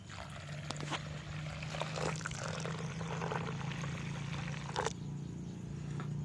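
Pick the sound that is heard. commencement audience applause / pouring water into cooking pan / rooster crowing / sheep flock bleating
pouring water into cooking pan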